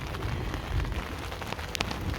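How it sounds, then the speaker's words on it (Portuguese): Rain falls steadily during a rainy season, a close, dense patter of drops on surfaces with occasional sharper drip hits, no voices. "Tá chovendo"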